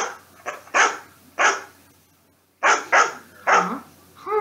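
A dog barks repeatedly and loudly up close, a few sharp barks, a short pause, then another quick run of barks, ending in a softer whimpering note.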